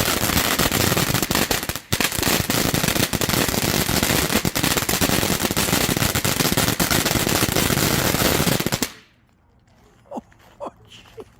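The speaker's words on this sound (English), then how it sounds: "we got Mayham Conic Fountain. There we go. By Santan Fireworks." A Mayham Conic Fountain firework by Santan Fireworks erupts at a launch pad in a loud, continuous crackling, popping spray for about nine seconds, then cuts off abruptly, leaving a few faint pops and voices reacting.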